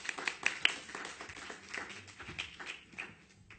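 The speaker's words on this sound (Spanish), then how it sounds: "un aplauso también para Amanda." Scattered, fairly faint applause for Amanda from an audience at a lecture or exhibition talk, a brief patter of claps lasting a few seconds.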